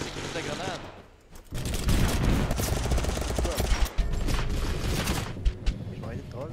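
Gunfire and grenade blasts in the video game Totally Accurate Battlegrounds, dense bursts of rapid shots with a few heavier thumps, loud and continuous after a brief quiet start, with voices talking over it.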